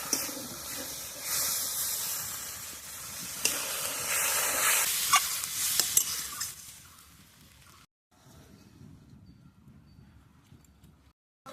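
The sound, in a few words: water added to frying duck egg masala, sizzling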